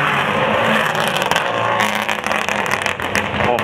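Rally car on a special stage of the 2008 Brasov Rally in Romania, its engine loud and close with a dense roar that dips and surges as it brakes, gravelly scraping underneath and no voices.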